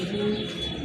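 A female pigeon of Andalusian colouring coos close by in a loft, a low steady murmur lasting under a second with no talk over it.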